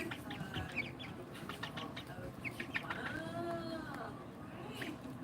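An Ayam Cemani chicken, a rare all-black breed, clucks repeatedly at close range under a steady background of people talking.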